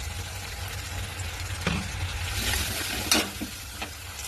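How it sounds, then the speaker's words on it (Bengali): Garlic and spices fry in a pan with a soft, steady sizzle, punctuated by a few clanks of stirring. "রসুনটা একটু ভাজা ভাজা করে নিচ্ছি"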